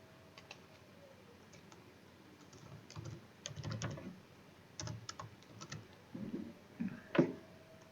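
Typing on a computer keyboard while writing HTML code, with irregular bursts of soft, close key clicks and short pauses between runs of keystrokes.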